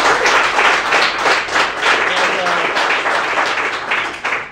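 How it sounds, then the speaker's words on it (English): A round of applause at a Western States live event for ultrarunner Caitlin Gerben, a modest group clapping in uneven bursts that rise and fall, with faint voices mixed beneath the claps. "a round of applause for Caitlin Gerben"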